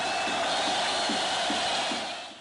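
A protest crowd boos and jeers as an effigy of Bashar al-Assad is hanged, a dense, sustained roar of many voices with rhythmic swells, loud and unbroken throughout.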